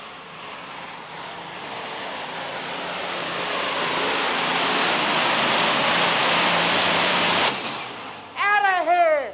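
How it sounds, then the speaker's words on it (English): A Case IH Magnum 7110 four-turbo super stock pulling tractor roars loud and steady during a pull, swelling broadly over several seconds and then cutting off abruptly, with a faint whistle-like sound at the end. "Hans Boxler, Ferrisburg, New York, 7110 Case IH Magnum, 4 turbo"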